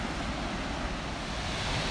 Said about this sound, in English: There's just a waterfall down there that just looks or sounds amazing.